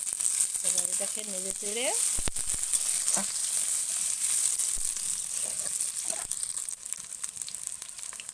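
Garlic, onion and green chili sizzle steadily in hot oil in a village kitchen, a constant frying hiss with occasional stirring clinks while someone speaks briefly over it.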